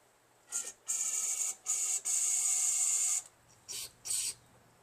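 STA-BIL carb choke and parts cleaner sprays into the emulsion tube area of a Tecumseh 13HP snowblower carburetor in short, close, hissing aerosol bursts, a few quick spurts and two longer sustained sprays.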